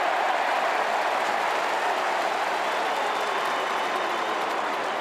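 Large AFL stadium crowd at a Carlton versus Port Adelaide home-and-away match roaring steadily, a dense, sustained wash of cheering that holds at full volume throughout without letting up.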